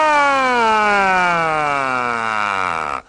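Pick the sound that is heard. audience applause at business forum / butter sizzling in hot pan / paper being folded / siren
siren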